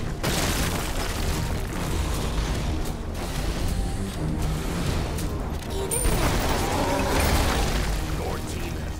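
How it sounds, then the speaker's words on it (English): An enemy tower collapsing in SMITE, a long sustained roar of crumbling booms and debris bursts, loud and dense throughout, with a fresh swell of impacts late in the clip. "Your team has destroyed a left enemy tower"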